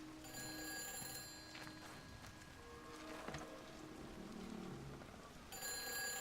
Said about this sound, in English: I hear a phone somewhere.